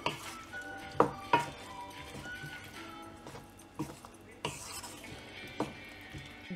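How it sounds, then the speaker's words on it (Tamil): Drumstick vegetables being stirred in a pot for sambar, with a spoon scraping and knocking against the metal pot in a few sharp clanks and softer shuffles, close up. "ஆட் பண்ணிட்டு இதை நல்லா மிக்ஸ் பண்ணி விட்டுடணும்"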